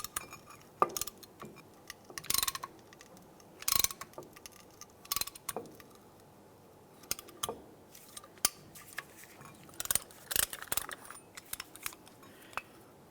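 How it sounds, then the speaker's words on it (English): Brake caliper pistons on a 2002-2005 Ford Explorer being pushed back during a front brake job, giving sharp metallic clicks and ratcheting knocks at irregular intervals, close and distinct with no talk. "Now it's time to push back the caliper pistons"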